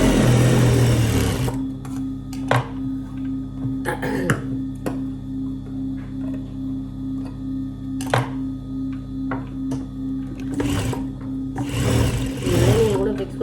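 A sewing machine stitches fabric and lining, opening with a brief loud whirring burst, then settling into a lower steady hum broken by scattered clicks and taps.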